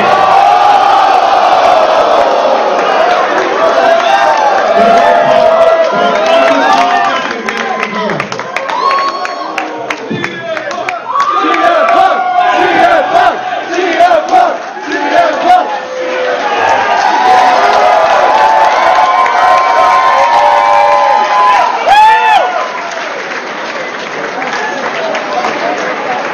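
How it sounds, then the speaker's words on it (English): A large wrestling arena crowd roars and chants rhythmically for CM Punk, loud and sustained with bursts of cheering and clapping, a voice speaking over parts of the din. "CM Punk, the crowd popping when he walked in the room was phenomenal."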